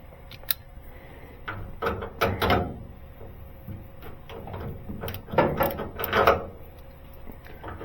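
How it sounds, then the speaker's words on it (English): A ratchet drives a large lag bolt through the body mount of a Model T in a home garage, giving bursts of rapid clicking and grinding with brief pauses between strokes, close and moderately loud. "let's just run a big old lag bolt through"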